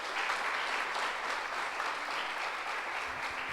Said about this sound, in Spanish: Denle un gran aplauso al Rey de Gloria en esta mañana.